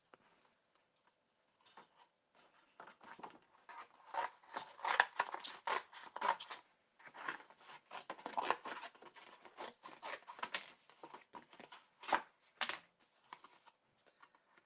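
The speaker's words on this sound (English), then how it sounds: "These scissors are not good for this paper." Scissors snip and crunch through paper in quick, irregular clusters of cuts, close up, with short pauses between bursts.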